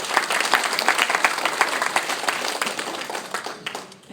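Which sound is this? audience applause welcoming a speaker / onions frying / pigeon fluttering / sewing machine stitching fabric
audience applause welcoming a speaker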